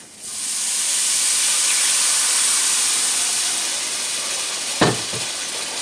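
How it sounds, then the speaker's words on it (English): Four cups of liquid poured into a hot pan of Mexican rice set off a loud, continuous steamy hiss and sizzle that fades slowly, broken near the end by a couple of sharp clinks. "now I'm adding the 4 cups of liquid that's been pre-measured"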